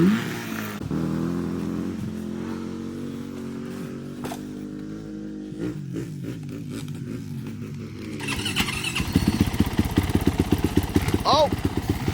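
Dirt bike engine with a softened front end revving while riding, a rough continuous drone that climbs and swells into loud, choppy pulses toward the end; someone talks in places.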